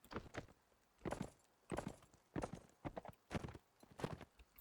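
Horse hooves clip-clop in a steady walking rhythm in the medieval game Mount & Blade: Warband, with six or so evenly spaced clusters of soft thuds, quiet and close.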